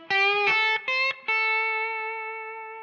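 Electric guitar plays a short blues lead phrase, a few quick picked notes with bends, then one long bent note that rings out and slowly fades, up front and alone.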